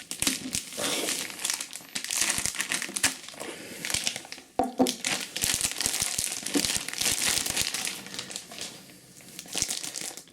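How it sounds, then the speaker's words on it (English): Crinkly plastic wrapping is peeled and crumpled off a White Dwarf magazine, a loud, close, continuous rustling with sharp crackles and brief tearing bursts throughout. "So we'll unwrap this."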